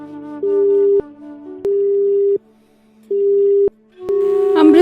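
A telephone busy signal repeats alone: four steady, loud tone bursts separated by short silences, the last one growing harsher and noisier as it rings out.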